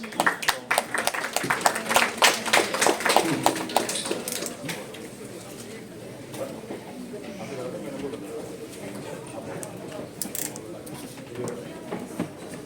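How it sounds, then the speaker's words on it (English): Applause from an award ceremony audience, dense clapping loud at first, then thinning and fading under a quieter hall murmur, with a brief renewed burst near the end. "A round of applause for Dr. Bhandari."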